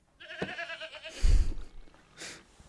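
A goat bleats several times, a wavering nasal cry followed by shorter calls, close and clear, with a brief low thump in between.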